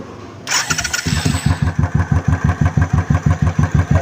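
A Royal Enfield Thunderbird motorcycle engine, recently repaired for an engine noise problem, fires up after a brief pause and settles into a loud, close, steady thumping idle with an even, regular beat.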